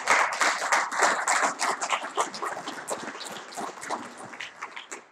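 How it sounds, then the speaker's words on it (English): An audience at a real estate auction event gives a round of applause, a moderate, uneven patter of clapping that swells early and gradually thins out. "I think we ought to give Chuck Dykes a round of applause"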